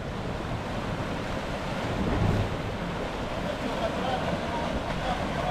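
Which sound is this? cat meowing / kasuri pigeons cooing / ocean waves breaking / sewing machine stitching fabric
ocean waves breaking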